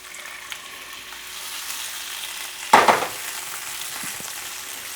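Shrimp drop into a pan of lightly cooked minced garlic, bursting into a loud sizzle near the middle after a quieter steady frying hiss, then settling back to a continuous sizzle with no talking.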